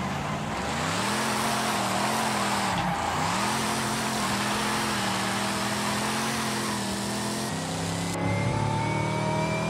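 A supercharged Knight Rider car's engine revs repeatedly in Forza Horizon 5, its pitch rising and falling in waves and then climbing sharply near the end, loud and continuous throughout.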